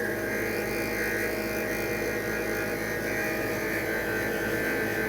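A milling machine cuts a plastic injection mold with a 3/16-inch ball end mill on a long spindly tool, giving a continuous high buzzing whine at steady level with no speech.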